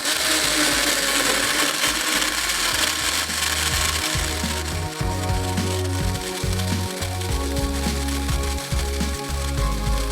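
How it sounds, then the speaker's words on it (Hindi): A blender runs continuously, whirring a green smoothie of yogurt, cucumber, milk, green syrup and ice cubes, with a loud, steady motor drone under gritty grinding and rattling bursts throughout. "बस सारी चीज़ें ब्लेंडर में और आपने चलाना है इसको 1 मिनट तक।"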